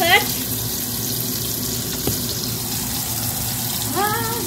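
A steady bubbling, hissing boil close by, with brief voice-like sounds at the start and end.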